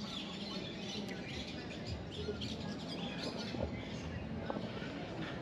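Birds chirp and squawk faintly in a park in Nicaragua, scattered calls over a steady wash of outdoor ambience with no talk.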